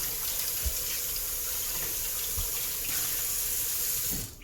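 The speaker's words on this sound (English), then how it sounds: "give a nice rinse" Running tap water pours steadily into a sink as food is rinsed under it during prime rib preparation, a continuous close hiss of flowing water with a few faint knocks, cutting off at the end.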